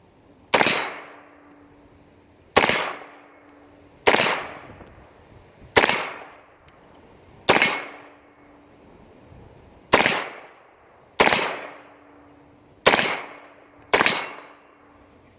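A Universal .30 carbine rifle fires about eight sharp, loud shots at uneven intervals of roughly one to three seconds. Each crack rings off in a short metallic tail, with quiet gaps between shots.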